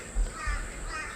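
Wild crows caw in a few harsh, drawn-out calls at a moderate distance, heard alone over a faint background.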